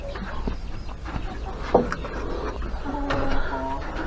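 A hen clucks in short, scattered bursts amid farmyard background noise, with occasional louder clucks standing out nearby.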